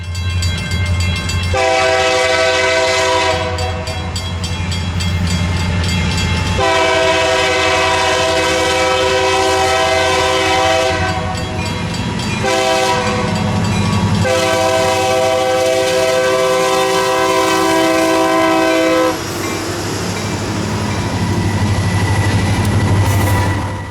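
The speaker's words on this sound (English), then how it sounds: "I thought it would be super neat to see the 2 unique locomotives meeting here in Donaha" Cummins-swapped SD90 locomotives on the Yadkin Valley railroad near Donaha, a loud, close, long horn sounding in several blasts over a deep engine rumble and rolling wheels.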